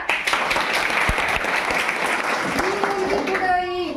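A group claps during a hygiene program session, a broad continuous patter of hands under a voice speaking, ending as a rising tone sweeps in near the close.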